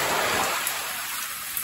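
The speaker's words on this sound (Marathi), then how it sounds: "पाऊस बघ तिथे खूप पडतोय बाबा" Heavy rain pouring down near a dam in a rural village, a dense, steady hiss throughout with no other sounds above it.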